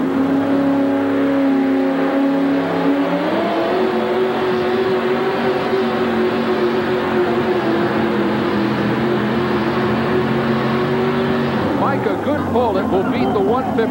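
A Wildfire pulling truck's engine roars steadily during a 1989 USHRA truck pull run in Kansas City, operated with a hand throttle, loud and continuous with a rising pitch shift partway through, heard from a distance in an arena.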